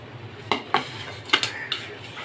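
A spoon clinking against a bowl while gram flour and rice flour batter is mixed for banana flower chops, with four or five sharp, close knocks spaced irregularly and no talk.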